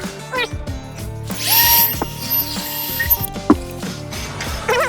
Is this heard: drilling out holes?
yes